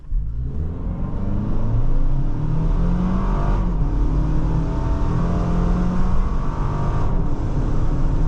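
A 2025 Toyota 4Runner Trailhunter with a 2.4-liter turbocharged hybrid engine accelerates under full throttle, a steady low rumble rising in pitch with two brief shift dips, heard from inside the cabin with no talking.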